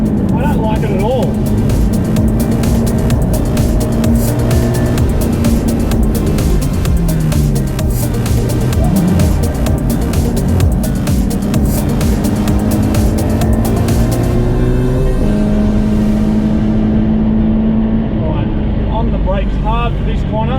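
Subaru BRZ on a race track, its engine droning loud and close as it brakes hard and corners, pitch falling and rising through the shifts, with someone speaking over it throughout.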